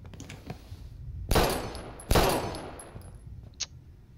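Gunshots in the Life is Strange video game: two sharp loud cracks about a second apart against quiet ambience, followed by a small click.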